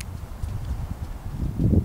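A Missouri Foxtrotter mare, 18 years old, walks in a riding ring under a rider. Soft, muffled hoofbeats fall in a steady rhythm on the footing, fairly close and quiet, getting a little louder toward the end.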